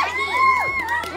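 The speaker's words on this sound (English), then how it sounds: "Again, cheer again." A group of children cheer and shout together in a brief, loud, high-pitched burst at close range, with voices rising and overlapping.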